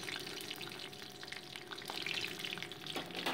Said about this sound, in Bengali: তার মধ্যে দিয়ে দিচ্ছি শুকনো লঙ্কা।